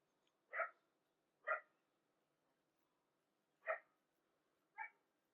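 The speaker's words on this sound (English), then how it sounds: "Sorry about the dogs next door, they're very yappy." Next-door dogs yapping, with four sharp, high barks in two pairs, spaced about a second and then two seconds apart, moderately close over a quiet background.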